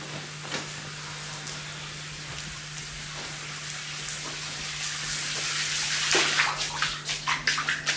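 Water from a shower pours steadily in a hissing spray, growing louder and more spattery toward the end, with a low hum beneath.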